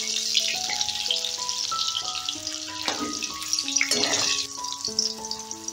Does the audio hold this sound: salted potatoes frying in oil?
yes